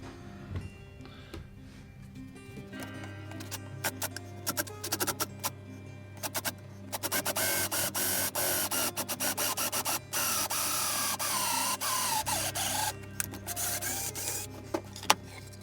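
A power drill whirs steadily in long bursts, grinding and rasping as it bores holes through a wooden guitar body, with brief pauses between runs.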